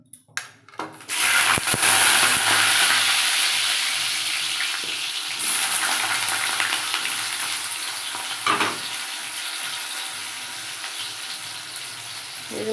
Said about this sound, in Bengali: তেল গরম হয়ে গেছে, এবার আমি আলুটা ভেজে নিচ্ছি।